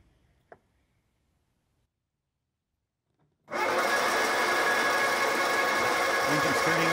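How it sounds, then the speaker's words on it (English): After near silence and a single faint tap, an Austin-Healey Bugeye Sprite engine on its first start attempt suddenly cranks, a loud continuous whirring churn that carries on steadily to the end. "Engine's turning over."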